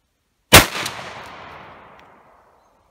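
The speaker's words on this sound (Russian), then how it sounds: "следующий выстрел будет на 70 метров" A single rifle shot fired at a target 50 metres away on an outdoor range; one sharp, loud crack followed by a long, fading echo that rolls away over about two seconds, with no talk.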